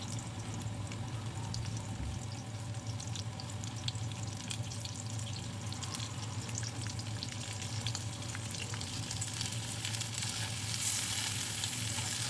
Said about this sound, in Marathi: ते छान परतून घेत आहे थोडंसं म्हणजे लालसर झालं की भेंडी टाकत आहे त्यामध्ये